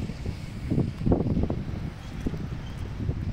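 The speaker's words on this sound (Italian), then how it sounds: "E anche oggi vento che tira bomba" Wind buffets the microphone in a low, continuous rumble with gusty swells, close and fairly loud, no voices heard, outdoors beside a Toyota Corolla 1.4 diesel.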